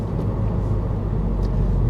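Honda Civic Type R FK2 fitted with an Eventuri intake, a loud continuous low engine rumble and induction roar close by, steady for a couple of seconds with no talking.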